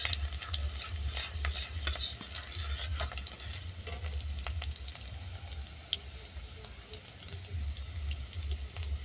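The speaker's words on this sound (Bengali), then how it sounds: "রসুনটা হালকা বাদামি করে ভেজে নেব।" Garlic frying in a pan until light brown, a steady close sizzle with occasional stirring scrapes and faint ticks, no voices.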